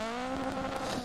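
Rally car in Dirt Rally 2.0 skidding under the handbrake on a small, simple track, a steady engine drone with tyre scrub running continuously and loud for about a second, with no talk.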